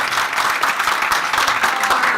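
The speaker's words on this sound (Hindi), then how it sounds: "बहुत सारी तालियां मेहमानों के लिए" Sustained applause from an audience welcoming guests at a Hinglaj Mata temple pilgrimage event, a dense steady wash of many hands clapping at close range throughout.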